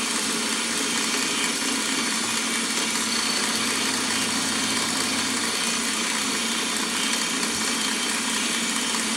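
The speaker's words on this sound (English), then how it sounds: "this will machine a slight amount off of the socket head cap screw" A machine trims a socket head cap screw, producing a constant, dense mechanical rush with a faint underlying hum that holds steady and close throughout, with no speech.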